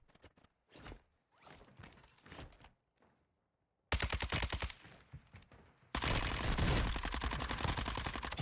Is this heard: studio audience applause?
no